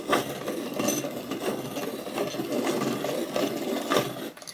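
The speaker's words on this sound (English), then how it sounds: "I am going to sharpen. I'm using my dowel, so it's a little bit noisy." Coloured pencil sharpened in a dowel-style sharpener, a steady close scratchy grinding that rasps on for several seconds with slight rhythmic pulses as the pencil turns, no talk over it.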